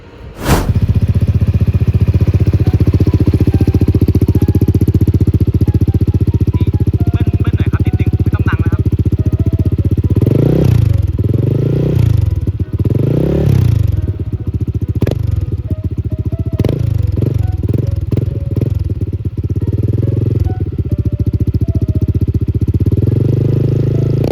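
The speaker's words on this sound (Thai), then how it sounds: "เดี๋ยวผมขอฟังเสียงท่อนนะครับ ว่าเสียงมันดังขนาดไหน" A Honda PCX 160 scooter with an aftermarket exhaust, its 160 cc engine idling loudly up close and blipped through several sharp rev bursts in quick succession.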